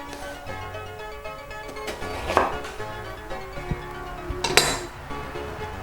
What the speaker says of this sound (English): cutting rings of my eggplant